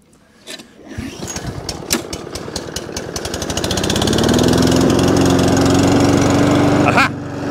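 A lawn mower under repair for a drive-wheel fault sputters with rapid, uneven engine pulses, then settles into a loud, steady running drone with a whining tone, close by.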